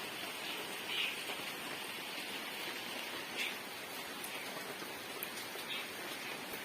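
Steady, soft rain falls on a rainy day, a continuous even hiss of drops with a few slightly louder patters, quiet and unbroken by voices.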